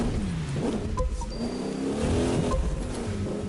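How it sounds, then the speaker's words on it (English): Vintage street racing car engine in The Crew 2, revving up and down in wavering pitch sweeps, loud and close, with a short squeal-like tone partway through. "this street racing vehicle is going vintage and old school"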